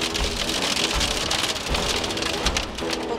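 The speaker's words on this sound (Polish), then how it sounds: "to jest grad. Żeby nam nic nie potłuł. Paneli." Hail drums steadily on the roof of a camper van during a storm, a dense, loud, continuous patter of hard hits with no gaps and no voices.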